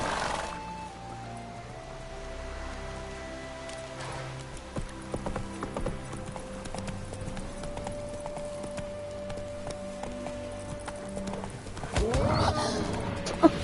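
A horse in The Witcher 3 gallops with a steady clip-clop of hooves under game music and ambience, with growling and scuffling from wolves and a louder whinny near the end.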